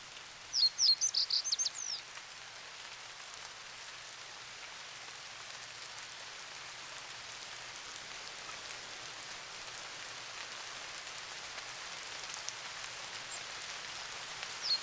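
Steady rain pattering across an English hay meadow, a continuous soft hiss throughout, with a brief burst of bird chirping near the start and faint birdsong toward the end.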